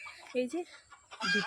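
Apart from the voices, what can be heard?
rooster crowing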